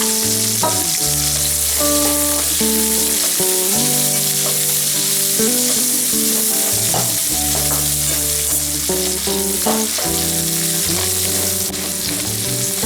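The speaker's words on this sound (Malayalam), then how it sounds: "സവാള ക്യാപ്സിക്കം രണ്ടും ഒരുമിച്ച് നമുക്ക് വഴറ്റാം" Sliced onion and capsicum sauté together in a pan for spicy soya chilli, a constant bright sizzle and stirring under louder background music, with no speech.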